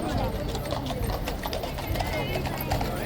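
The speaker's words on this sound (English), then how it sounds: "Police horses in their finest livery." Hooves of police horses in ceremonial livery clip-clop in a steady procession for the State Opening of Parliament at Horse Guards, many overlapping hoofbeats on pavement, with a person talking over them throughout.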